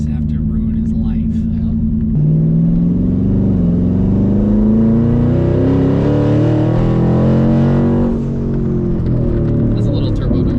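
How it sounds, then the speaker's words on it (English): A twin-turbo 5.0 Ford F-150 pulls away under light throttle, engine drone rising steadily in pitch with a faint turbo whoosh layered on top, heard from inside the cab. "That's a little turbo noise. That's me like very gingerly giving it gas."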